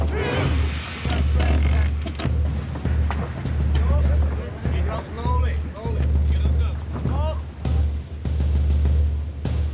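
A Viking ship sets sail at sea, with strong wind buffeting the microphone and a low rumble of water and hull running steadily throughout, while people talk and call out over it.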